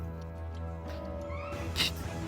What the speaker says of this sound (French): c'est pas mon chat qui a miaulé, c'est la musique qui fait ça